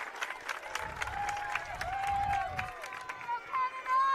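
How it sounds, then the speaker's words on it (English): A packed crowd roars at a Canada vs England U19 Women's Lacrosse World Championship semifinal, a broad swell of cheering and applause beneath a commentator's voice, with whistle-like tones on top. "It's a roar from the crowd here"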